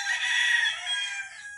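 An Asil brood stag rooster crows in one sustained, loud, near call that holds strongly before tapering off at the end, with no other sounds around it.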